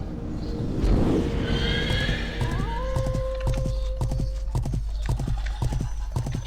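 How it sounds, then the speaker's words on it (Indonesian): A horse in the online game Rohan lets out a loud neigh, then its hooves clip-clop in a quick, steady gallop rhythm close by. "Naik kuda biar cepet ya."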